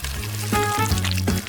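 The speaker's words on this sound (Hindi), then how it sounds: "अब मैं इसे फ्राइंग पैन में डालूंगी और फ्राई करूंगी" Batter made with milk and eggs hits a hot frying pan and sizzles in a short, loud burst, with a low steady hum running underneath.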